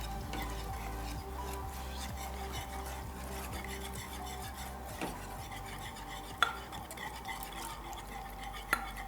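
A spoon stirs rum sauce thickened with eggs in a pot, giving soft, continuous scraping and swishing close by with a low sizzle beneath and a couple of sharp clinks against the pot, with no voices.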